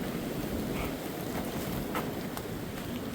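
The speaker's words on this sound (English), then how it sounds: "the wind is just too crazy today" Strong wind roaring steadily across the microphone on the Appalachian Trail in February, a loud continuous buffeting rush with no pauses, close and dominating, no voices.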